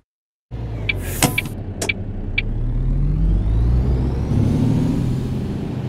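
A truck in a truck-simulator game rolls along with a steady low engine drone that builds and holds after a quiet start. A few brief clicks and whirs come early on, and nobody speaks.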